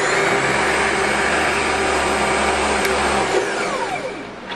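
A Brother 2600i sewing machine winding a bobbin, a loud steady motor whir that begins to wind down and fade near the end, heard alone.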